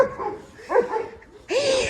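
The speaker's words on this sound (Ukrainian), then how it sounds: "оце моя собачка маленька" A small dog in a village yard gives a few short, high yapping barks and whimpers close by, in quick bursts with brief pauses between them.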